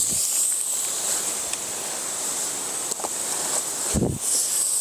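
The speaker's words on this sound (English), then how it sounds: "And now, of course, the wind's going to pick up." Wind picks up in an outdoor front yard during open-fire Dutch oven cooking, a steady hiss and rustle with faint low gusts and a few soft knocks.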